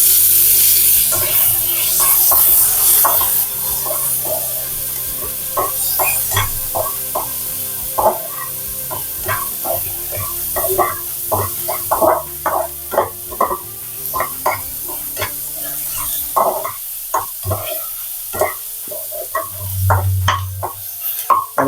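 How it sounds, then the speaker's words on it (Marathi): Tomatoes frying with browned onions in a pan while being stirred, making a continuous loud sizzle broken by many quick scraping and tapping strokes of the spoon; no talk. "टोमॅटो मऊ होईपर्यंत फ्राय करायचा आहे"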